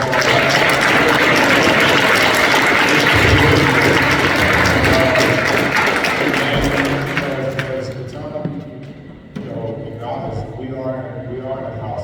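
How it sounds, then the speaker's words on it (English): Congregation applause in a church service, a thick, loud round of clapping that rolls on for several seconds, then thins and fades away as a voice begins speaking over the tail. "So I just want everybody to give them a round of applause."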